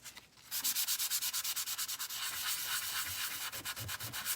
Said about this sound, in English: I'm gonna just apply some pressure and we're gonna sand some of that back.